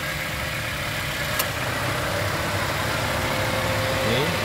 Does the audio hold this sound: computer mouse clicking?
no